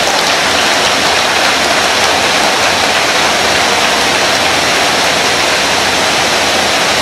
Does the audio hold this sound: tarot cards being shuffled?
no